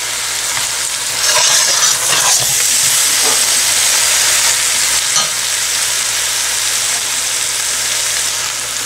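Aloo gosht, mutton with potatoes, frying bhuna-style in a pan, making a loud, constant close sizzle and hiss with occasional scraping stirs, and no talking.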